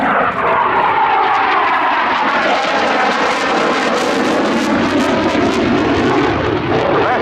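A Eurofighter Typhoon jet swings through a knife edge pass at an airshow, its loud, continuous engine roar filling the air with a shifting, Doppler-like tone that holds steady and close throughout.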